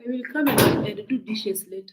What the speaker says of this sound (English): Close the door. Close the door.